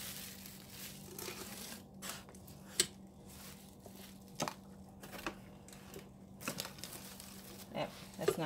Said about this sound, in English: So I'm just going to take a plastic bag.